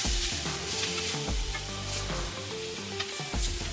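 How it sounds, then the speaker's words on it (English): Pork ribs sear meat side down in a hot cast iron skillet, giving a steady, close sizzle with crackling pops and occasional scraping or stirring sounds. "While the ribs are searing on the meat side"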